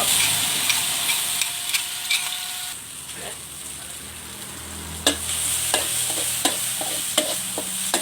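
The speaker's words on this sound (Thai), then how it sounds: "ใส่น้ำมันหมูลงไปนะคะ ตามด้วยพริกที่กรอกเสร็จแล้ว" Chilies stir-fried in pork lard for a Thai liver stir-fry, sizzling steadily up close while a utensil scrapes and taps the pan in irregular strokes.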